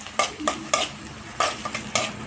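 Crushed garlic is tipped into a small hot pan for beetroot palya and stirred, with a sizzling bed under several sharp scraping spoon strokes and light metal clinks, close up and without talk.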